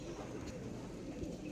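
Birds, likely pigeons or doves, coo at an animal shelter that also houses cows, dogs and monkeys. The soft cooing blends into a steady low background murmur for the whole moment, with no voices.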